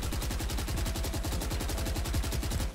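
A Phantom rifle in Valorant fires full auto, a rapid, evenly spaced stream of loud, close gunshots lasting a few seconds.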